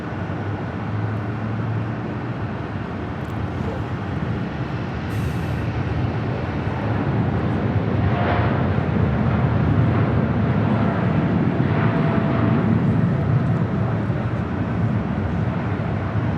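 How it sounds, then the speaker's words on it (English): United Airlines 787-9 Dreamliner bound for Hong Kong on its takeoff roll down busy runway 25 Right at LAX: a steady, loud broadband engine roar that swells slightly midway and holds, with no talk over it. "United Airlines Flight 152 heading to Hong Kong on a 787-9 Dreamliner now rolling down"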